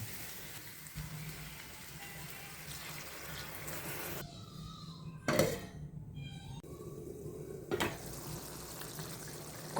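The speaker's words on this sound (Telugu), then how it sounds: "1 గ్లాస్ నీళ్లు పోసి మళ్ళీ కొద్దిగా ఉడకనివ్వాలి." A pot of keema curry gets a glass of water and is left to cook. Quiet splashing and bubbling liquid run throughout, close and soft, with a brief louder burst midway and no speech.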